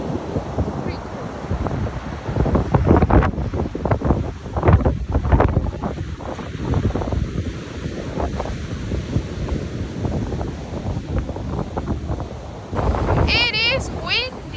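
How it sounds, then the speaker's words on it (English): Strong wind buffets the microphone over a steady rushing roar of ocean surf on the Icelandic coast, while people talk over it. "Yeah, the waves just behind us. Very windy."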